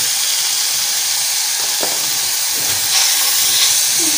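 Chopped capsicum tossed into a hot pan for fajita spaghetti, giving a steady loud broadband hiss and sizzle with a few faint clinks and stirs, no talking.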